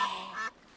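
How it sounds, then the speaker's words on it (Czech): A single duck quack from a children's cartoon, a bright nasal harmonic call lasting about half a second, loud and close, then fading into quiet background. "Kachna!"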